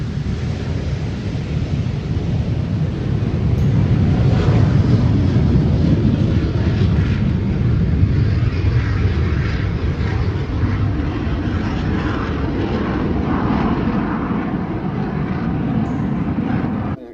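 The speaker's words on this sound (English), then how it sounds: "But here go the two Strike Masters." Two BAC Strikemaster jets passing at an air show at Duxford, a steady loud roar with a broad rushing sound that swells and holds, plus some wind noise.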